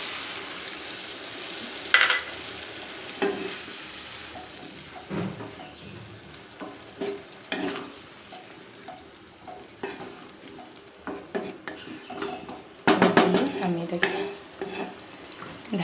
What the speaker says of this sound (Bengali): দেখো আমি সামান্য এই যে এইটুকুনি জল দিয়ে দিলাম